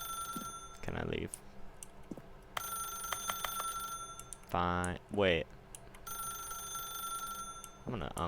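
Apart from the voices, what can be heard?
telephone ringing in video game The Stanley Parable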